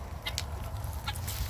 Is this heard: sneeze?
no